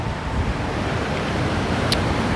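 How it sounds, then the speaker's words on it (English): Strong wind buffets the microphone over rolling sea waves on an overcast day at Qatar Beach, a constant roaring wash that fills the whole stretch with no one talking. "I do hope the wind noise and the sea noise is not interfering too much."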